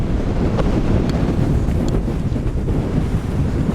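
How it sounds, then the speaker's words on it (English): Strong wind buffets the microphone on the summit of Lord's Seat, a steady, loud roar of gusts filling the whole stretch with no voices. "Very, very windy."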